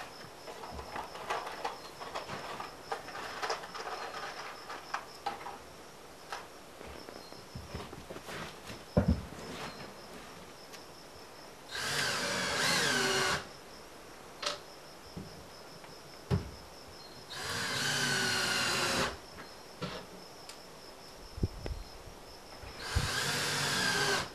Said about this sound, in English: go ahead and screw in 3 screws to fasten the hinge